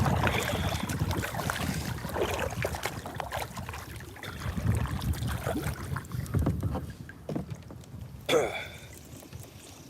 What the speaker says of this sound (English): And there goes the wind.